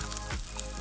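Liquid smoke hitting a hot pan for chili dogs, giving a short, steady crackling sizzle at close range with no talking.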